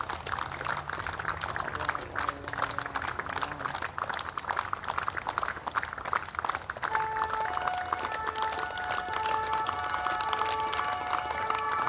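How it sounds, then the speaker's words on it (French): Crowd applause along an avenue in Oupa as a police procession in tribute to a fallen brigadier passes, a steady broadband clatter of clapping across the whole stretch, with faint tones and a voice joining in the second half. "Applaudissements."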